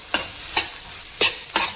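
Onion with ginger garlic paste frying for street-style pav bhaji, four short scraping stirs over a soft sizzle, close and fairly loud.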